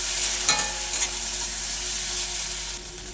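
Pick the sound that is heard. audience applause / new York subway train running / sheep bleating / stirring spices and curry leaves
stirring spices and curry leaves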